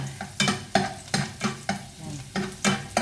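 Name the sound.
garlic frying in a pan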